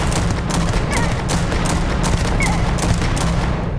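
Rapid bursts of gunfire in the Starfield video game, loud and dense, rattling on almost without a break, with no speech.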